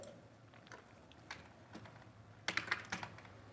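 Typing code on a computer keyboard during a Python Pandas data analysis session, quiet scattered keystrokes that cluster into a quicker burst near the end, close and alone.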